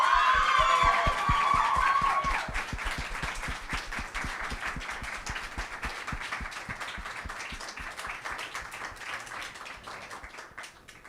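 Audience clapping at a live showcase event in the UAE, a dense burst of applause that thins into scattered claps and fades over several seconds, with a brief tone at the start.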